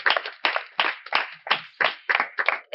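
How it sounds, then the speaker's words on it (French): Audience claps in a rhythm of about eight evenly spaced claps for a king at a gathering, sharp and close, with no voices over it. "Alors, un tonnerre d'applaudissements pour notre grand roi."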